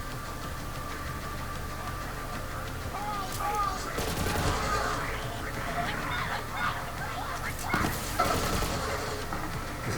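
Maliwan Kyb's Worth gun firing in the Borderlands 3 video game, with repeated sharp energy shots and bursts over a dense game soundscape of effects and background noise.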